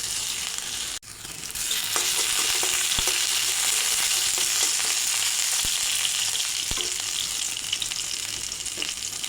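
Chopped garlic and ginger sizzle loudly in hot soybean oil, a steady close frying hiss that swells after a brief dip near the start, with occasional soft clicks and stirring taps.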